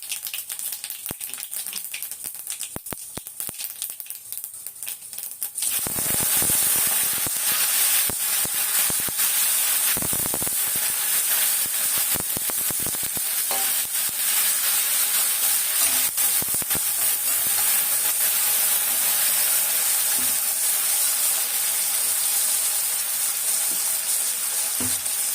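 Potatoes fry in hot oil with fennel, cinnamon, cloves and star anise, a steady loud sizzle that bursts in suddenly and then hisses on continuously, with occasional stirring scrapes.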